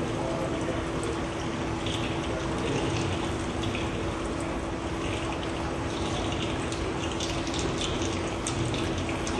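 Wastewater rushes steadily through the baffle area of a treatment plant, a constant, even wash of flowing water with a low steady hum beneath it.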